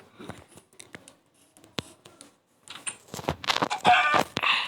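Chickens cluck and squawk inside a barn in a string of short, close calls. The calls grow louder and busier toward the end, with scratchy rustling mixed in.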